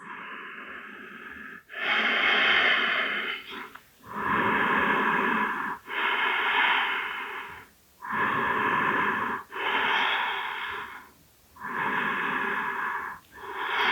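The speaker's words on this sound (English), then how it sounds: "Breathing in and out through your nose." Slow, deep nasal breathing during a gentle yoga hip stretch, long airy inhales and exhales alternating in an even rhythm, close and clear with short pauses between.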